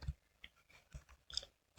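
Quick, light keystrokes on a computer keyboard sound close and clear, an irregular run of clicks with short gaps between them, with no talking.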